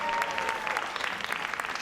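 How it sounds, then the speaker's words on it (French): An audience bursts into brisk applause, many hands clapping close and lively, with individual claps standing out as the clapping thins slightly toward the end. "Pour l'applaudir bien fort, s'il vous plaît"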